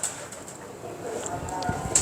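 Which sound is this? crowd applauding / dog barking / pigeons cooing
pigeons cooing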